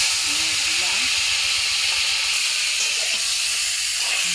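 Fish frying in a pan, a loud, steady broad hiss of sizzling oil running throughout with only slight variation, as a voice speaks faintly beneath it.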